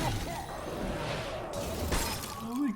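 The Shatter spell effect in the Hearthstone card game makes a bright, crackling burst of breaking ice with a whooshing swell, sitting inside busy game sounds and music at a steady level.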